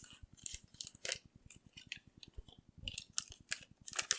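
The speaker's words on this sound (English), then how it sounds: "We can carefully put everything back in the crinkly packaging." Crinkly plastic packaging is handled up close in quick, quiet bursts of crackling and rustling, with a faint regular low ticking beneath.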